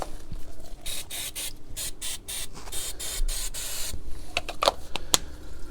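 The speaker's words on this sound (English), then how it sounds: "Bit of brake cleaner." Brake cleaner is sprayed onto a rusty Fiat 500 brake part in a series of close, loud hissing bursts of aerosol, followed by a few short, sharp spurts near the end.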